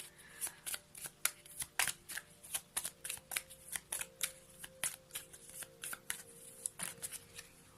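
Oracle cards are shuffled by hand in a steady run of quick, papery riffling bursts, close-up and soft, continuing without any speech.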